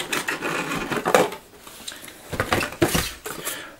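Unpacking a Noctua NH-L12 CPU cooler heatsink: close crinkly rustling of packaging with intermittent light clatters and scrapes in uneven bursts.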